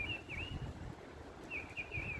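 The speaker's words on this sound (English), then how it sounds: "Birds are chirping away now." Birds chirp in a wooded valley near a solo hot-tent campsite, two faint whistling calls separated by a pause over soft outdoor background noise.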